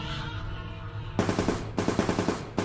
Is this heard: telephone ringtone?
no